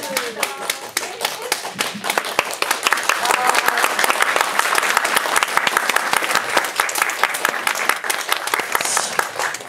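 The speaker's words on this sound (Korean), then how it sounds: "박수 부탁드릴게요" A Korean cinema audience applauds after candles are blown out at a film's 10,000-viewer celebration screening with the cast: brisk, continuous clapping from a packed room, loud and sustained for nearly ten seconds without pause.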